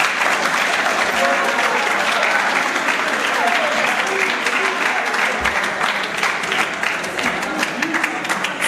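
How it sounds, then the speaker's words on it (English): A seminar audience in Ghana claps together in a full, continuous round of applause, dense and fairly loud, with faint voices mixed in beneath the clapping. "Let's clap for him."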